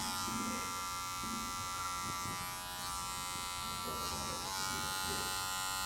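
Electric hair clippers blending a taper fade haircut, a steady close buzzing drone running throughout, with someone talking over it.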